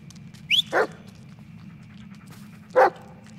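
A dog in the Blair Witch video game gives a quick pair of close barks with a whiny lift, then a single bark a couple of seconds later, over a low background drone.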